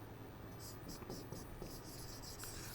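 Pen scratching out an English sentence on paper, a run of soft, quiet strokes in short bursts over steady background hiss, with faint whispered talk.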